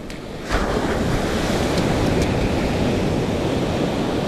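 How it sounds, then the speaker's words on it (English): Ocean surf washes steadily through a metal detecting scoop on a beach, a loud continuous roar of breaking water and rushing foam with wind noise that surges in after a brief quieter start. "in the scoop, and we'll let the ocean do the trick."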